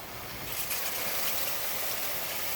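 Water pours steadily into a crawfish boil pot, a constant broad rushing hiss with no pauses, close and fairly quiet throughout.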